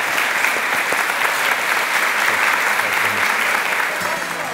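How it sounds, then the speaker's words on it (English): A full round of applause fills the room at the grand opening of Christ Church House, dense and even from a sizeable audience, continuing loud throughout without speech. "I think a round of applause, don't you?"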